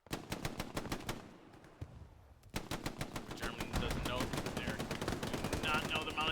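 Rapid MG42 machine gun fire in the video game Hell Let Loose, a fast even stream of shots that breaks off briefly, then resumes with heavier, denser bursts, while a commentator talks faintly underneath.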